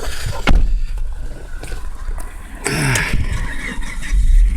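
A Volvo S60-R sedan with a repaired, previously hacked and plugged-up engine runs on a road test, its engine note rising and falling with bursts of revving and road noise, loud and close from inside the car.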